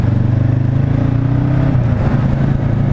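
A 2019 Honda CB 500 F motorcycle being ridden, its engine holding a steady, close, loud drone with a slight pitch dip partway through; no one speaks.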